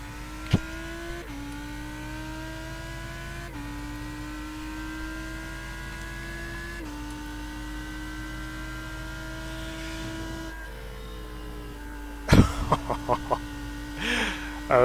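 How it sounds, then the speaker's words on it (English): A Lamborghini Huracan GT3 EVO's V10 revs hard in iRacing, a loud, raw engine note climbing through stepped gear changes, then a burst of sharp, choppy blips near the end. "That sounds amazing, as you'd expect a V10 to sound."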